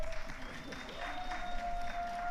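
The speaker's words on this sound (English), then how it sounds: "You can applaud." An audience at a Bermuda government event in Hamilton gives a short burst of faint, distant applause.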